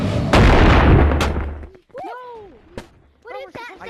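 Loud shotgun blasts from the video game Animal Company, a dense booming burst up front followed by a second sharp crack, with people's voices chattering between the shots.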